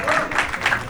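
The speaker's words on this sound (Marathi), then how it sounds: "अरे मित्र आणि जोरदार टाळ्या मित्रांनो." Brief burst of audience applause at a Marathi comedy show taping, fairly loud and uneven, with a voice faintly audible beneath the clapping.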